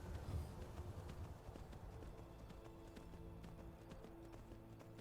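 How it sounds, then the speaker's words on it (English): Hooves clop in a fast, steady rhythm of a galloping horse in the video game Skyrim, faint and continuous under a dense wash of background noise. "I wish this game emphasised on horse galloping noises."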